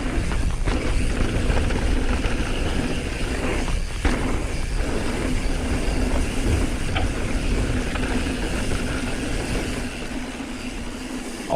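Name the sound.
DJI Mavic 2 Zoom drone flying and following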